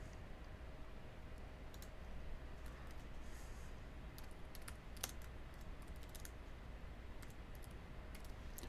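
A computer mouse clicks a few times in roofing takeoff software, producing sparse, faint, sharp clicks over a quiet steady background hum.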